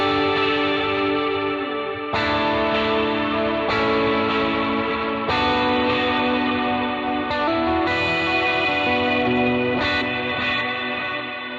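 Electric guitar driven through an overdrive boost pedal, sustained chords ringing with chorus and reverb shimmer for worship-style tone, changing roughly every two seconds, loud and continuous with no voices.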